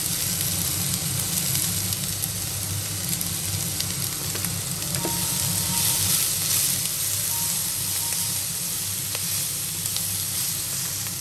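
Tomatoes and capsicum with a little salt sizzle steadily in a frying pan on an induction cooktop, a continuous close frying hiss with faint stirring scrapes and no talk.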